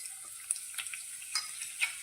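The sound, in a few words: sliced garlic cloves frying in oil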